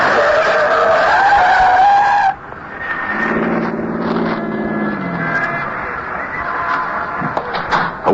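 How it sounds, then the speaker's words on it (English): A yellow taxi skids hard around a snowy corner at 103rd and West End, tires squealing loudly for about two seconds before it settles to a stop, followed by quieter engine rumble and street noise. "A yellow taxi spins around the corner at 103rd and West End and settles to a stop"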